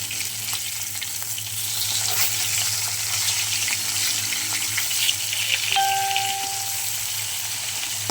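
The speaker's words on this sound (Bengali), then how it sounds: "তাহলে মাছগুলো বেশ সুন্দরভাবে ভেজে নিই" Fish pieces fry in hot oil with a steady, dense sizzle and crackle that carries on evenly throughout at close range.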